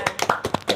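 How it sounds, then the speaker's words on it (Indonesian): A few hands clapping briefly at a lively student association gathering, uneven claps spaced across under a second, close and moderately loud. "Tepuk tangan ya."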